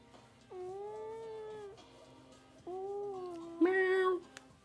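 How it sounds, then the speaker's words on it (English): A cat meows three times in a row, each call drawn out for about a second, the last one louder and harsher, heard close up indoors over a low steady hum. "Meow."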